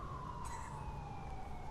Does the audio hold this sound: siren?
yes